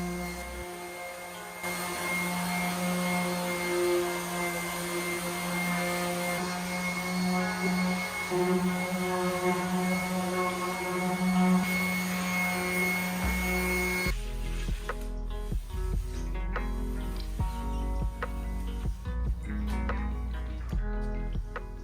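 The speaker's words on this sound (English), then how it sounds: "I scuff sanded the rest using 120 grit with my orbital sander." Orbital sander with 120-grit paper scuff sanding a wooden dresser, a steady loud motor drone with strong hum that runs continuously, changing tone partway through as the pad shifts on the surface.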